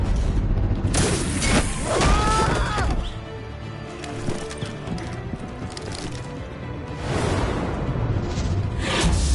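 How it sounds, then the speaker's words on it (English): A smoke bomb goes off in a Batman video game, a loud booming burst with swishing whooshes that swell and fade, returning strongly near the end amid other game effects. "Bomba de humo"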